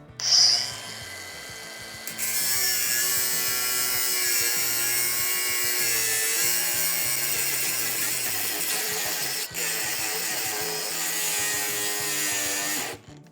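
A Procraft AG125B cordless angle grinder spins up and cuts, a loud, close, sustained high-pitched whine with a harsh grinding edge that holds steady for over ten seconds before winding down.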